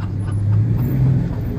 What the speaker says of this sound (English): he said he pulling up the little truck over there